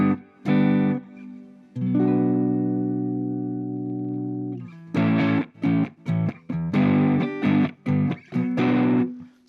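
Distorted electric guitar run through a Mooer GE300 amp model, with an expression pedal sweeping the settings: a long sustained chord ringing out, then loud, choppy chord stabs in a stop-start rhythm, played alone.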